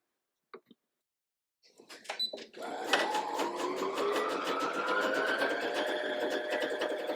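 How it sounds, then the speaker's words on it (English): A Brother PE550d embroidery machine automatically winds a bobbin: a few soft clicks, then a steady close mechanical whir that climbs slightly in pitch and runs on evenly. "press that button and it will start winding up the bobbin automatically"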